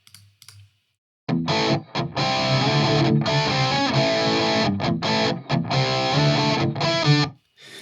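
Distorted electric guitar amp tone blended with room sound from the cabinet, played as loud, sustained chords and riffs with short gaps, alone with no talking.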